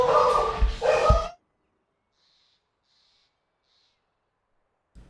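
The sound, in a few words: dogs barking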